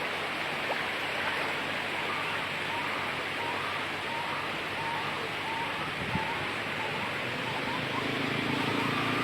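Flood water rushes steadily across a road in Sitio Buayan, Roxas, Palawan, a continuous broad roar like a stream with faint background voices.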